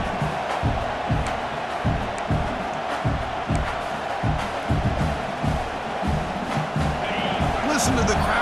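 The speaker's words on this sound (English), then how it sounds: "Listen to the crowd energy here in the early going." Stadium crowd in EA Sports College Football 26 roars continuously, a loud dense wall of cheering with rhythmic surges and chanting throughout, a tough road environment early in a college football game.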